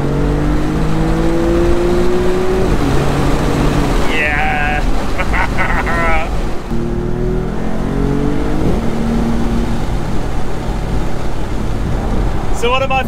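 A Maserati MC20 Cielo open-top supercar accelerating hard on a country road, its engine loud and close, climbing through the revs with gear changes as the pitch rises, drops and rises again, with wind noise throughout.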